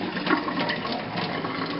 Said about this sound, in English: we are going to be straining the rice